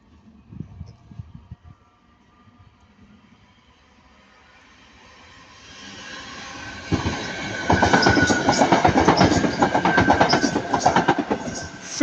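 Class 323 electric train passing at Ardwick, growing from a faint approach to a loud close rumble with rhythmic wheel clicks and high squeal as carriages roll by.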